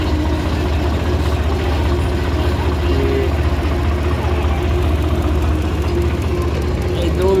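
Several diesel tractors idle at an earthmoving work site, giving a steady, continuous low engine rumble with a throbbing chug that stays even and fairly loud throughout.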